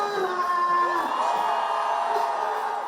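A crowd of revellers at a sold-out solo concert cheers and chants steadily, a dense, loud wash of voices with scattered whoops.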